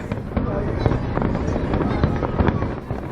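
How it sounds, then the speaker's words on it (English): New Year's Eve fireworks show in Brisbane, a dense run of bangs and crackling pops at a moderate distance, with crowd chatter and voices talking throughout. "Welcome to the biggest event in Brisbane, the Brisbane New Year's Eve fireworks show."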